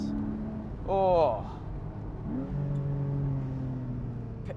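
A Porsche 718 Boxster GTS 4.0 with its PDK gearbox revs up in a quick, rising and falling burst, then settles into a steady, sonorous drone with a higher note gliding upward. A voice is heard briefly over it.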